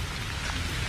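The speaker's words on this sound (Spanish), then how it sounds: "Ahora sí está lloviendo más intensamente" Heavy rain pours steadily during an outdoor news broadcast, a dense, continuous hiss of drops striking surfaces, close and unbroken with no voices.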